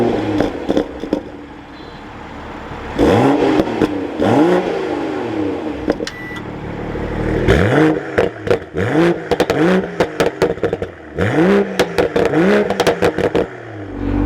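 A BMW Z4 sDrive M40i engine cranks to life, then revs repeatedly in sharp rising and falling bursts, loud and close, with a rapid string of quick blips toward the end.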